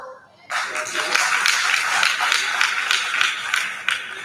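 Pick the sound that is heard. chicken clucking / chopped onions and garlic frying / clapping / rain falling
clapping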